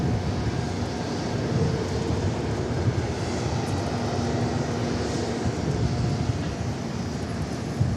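A Southwest airliner arriving from Charlotte at Dallas Love Field, heard as a steady, broad jet roar that holds even and loud throughout, with no voices.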